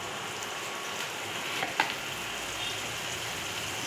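Poppy seed paste, green chilli and grated coconut tipped into hot oil give a steady, soft crackling sizzle throughout, with one brief louder spatter midway.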